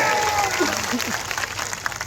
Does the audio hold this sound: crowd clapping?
yes